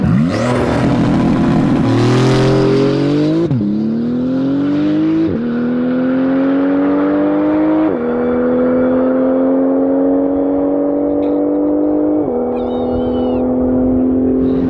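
Porsche GT2RS without a rear wing launching and accelerating hard, tires struggling for traction: a loud, close engine roar climbing in pitch through several gear shifts, each marked by a brief dip, with tire whine over the top.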